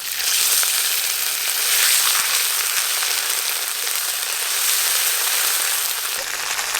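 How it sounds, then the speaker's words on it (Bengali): Turmeric and ginger paste sizzle in hot oil as a steady, loud, bright frying hiss, continuous and close throughout with no talking, fading only a little near the end. "গরম তেলে একটু হলুদ গুঁড়ো দেব, তারপর আদা দেব, তাহলে আর গরম তেল ছিটকাবে না।"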